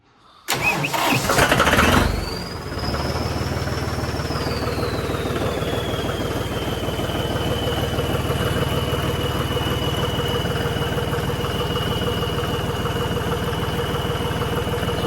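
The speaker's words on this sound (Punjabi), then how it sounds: "ਲਓ ਜੀ ਹੁਣ ਚੈੱਕ ਕਰੋ ਇਹਦੀ ਸਟਾਰਟਿੰਗ" Truck engine cranking and catching, then settling into a steady idle that runs on loud and close with a constant whine above the rumble; no one speaks.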